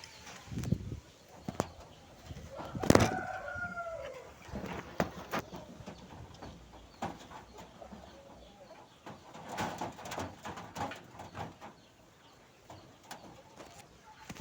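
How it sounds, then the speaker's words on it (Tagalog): Young pigeons feeding on breeder mix grain, giving scattered soft pecking taps and rustles, with one brief cooing call early on, close and moderately quiet. "Kumakain na sila mga kalapatids."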